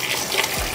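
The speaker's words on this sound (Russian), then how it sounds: "И затем выливаем в стакан воды." A brief, steady gush of water poured into a glass while making a meatless lunch with squeezed lime, close and clear with no talking.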